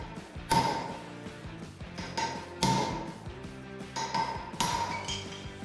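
Steel chisel struck against stone while carving, sharp ringing metallic clinks in an irregular series, close and loud, several strikes over a few seconds.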